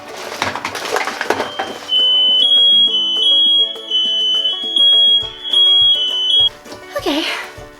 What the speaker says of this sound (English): Okay, just a fire alarm.